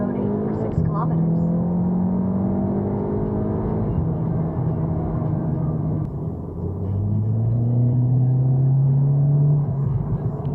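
Steady cabin drone of a car driving at night on a county road, recorded by an OnDash N4 dash cam, with low engine hum and road rumble holding evenly throughout and a slight rise in pitch near the end.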